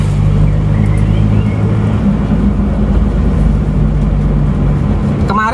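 An Isuzu Panther diesel engine that had been blowing oil from its dipstick runs loud and steady nearby, a constant heavy rumble held without clear rises in revs.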